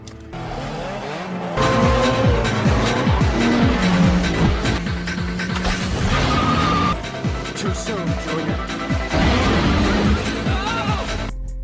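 Street racing cars in a film scene, engines roaring loudly with repeated tire squeals and skids, layered over dramatic music throughout.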